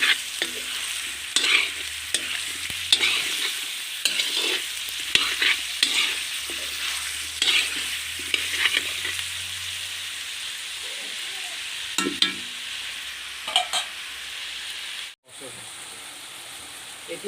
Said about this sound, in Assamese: মাংসখিনি লৰাওঁতে মনত ৰাখিব যাতে ধুনীয়াকৈ গৰম তেলত মাংসখিনি